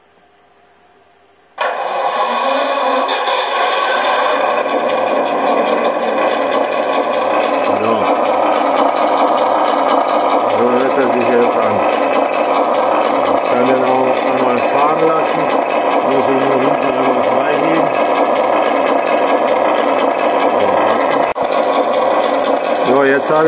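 Engine sound from the module of a KingKong RC ZIL 130 (555 MMZ) scale dump truck: a sudden start after a brief silence, then a steady, loud, rumbling idle that runs for over twenty seconds without voices.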